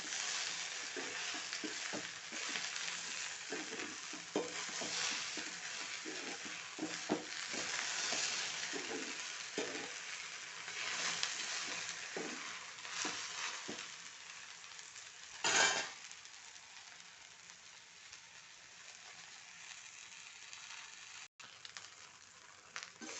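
Okra stir-fry (vendakka thoran) scraped and stirred in a hot pan with a spatula, steady sizzling under repeated scraping strokes and occasional utensil knocks, close and alone.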